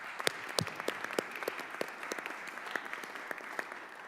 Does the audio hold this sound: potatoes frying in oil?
no